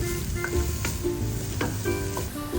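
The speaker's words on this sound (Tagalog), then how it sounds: "Paghalu-haluin natin ang mga gulay, lagyan ng kaunting paminta at kaunting asin." Vegetables stir-fried in a hot pan with a little pepper and salt, a steady close sizzle broken by several sharp clanks of a utensil scraping and tossing the food.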